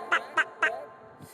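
Three quick, bright duck quacks in a steady rhythm, close and clear, followed by a faint low fourth call, sounding like a cartoon sound effect in a children's nursery rhyme.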